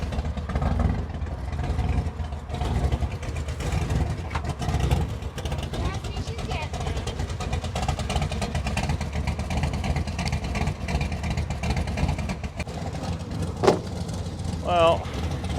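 A clapped-out 1955 Chevy Gasser engine idles steadily and close by, a low, rough rumble holding even throughout, with a couple of brief sharper sounds near the end.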